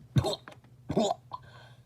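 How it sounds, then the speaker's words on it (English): Two harsh coughs in quick succession, close and fairly loud, followed by a short rasping breath, from the anime character Naruto coughing up blood. "Naruto would cough up some blood"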